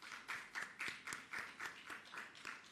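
A small audience at a government press briefing claps together, quiet and somewhat distant, with evenly spaced bursts of hand claps over a few seconds and no voices.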